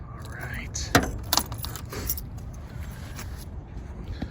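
Keys to a 1979 Pontiac Trans Am jangle close by with a few bright metallic clinks, over a low background rumble.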